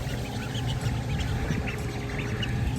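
Ducks grazing outdoors give scattered soft quacks over a steady low background hum, moderately close and fairly even throughout, with no talking.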